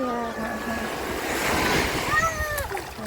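Sea waves wash onto the beach at Torremolinos in a steady, close surf wash with wind noise, while someone talks and exclaims over the water.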